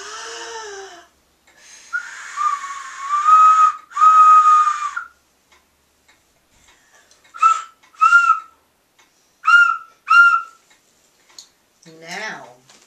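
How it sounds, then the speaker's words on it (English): A hand-held whistle is blown several times, first in long shrill blasts and then in short paired toots, loud and near, with quiet gaps between them. "what do you do when you get a whistle? Blow it."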